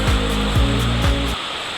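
River flowing beside a camping spot near Quesnel Forks, a steady broadband rush of water heard close and loud throughout, with a low rumbling hum pulsing underneath and no talking.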